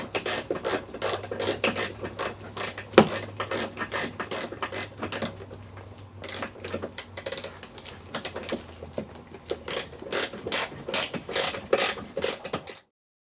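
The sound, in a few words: tightening a bolt on an Audi A4 timing belt job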